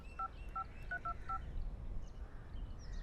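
A mobile phone being dialed gives five short, evenly spaced keypad tones in quick succession, followed by faint background noise and no speech.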